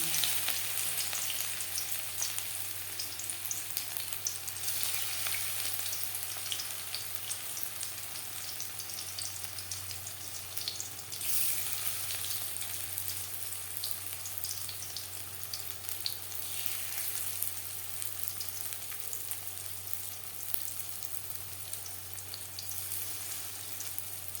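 Mustard flower fritters fry in a wok, making a loud, continuous, even sizzle and crackle throughout with no talk.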